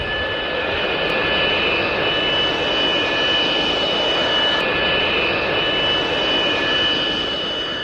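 An airplane comes in to land, its loud jet engine roaring in a steady, unbroken drone from start to finish, with no voices.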